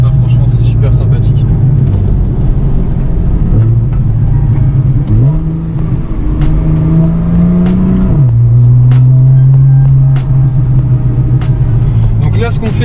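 A Porsche 911 50th Anniversary edition drives along. Its engine drones loudly and steadily up close, rising and falling in pitch through several clear gear changes as it accelerates, and someone talks over it.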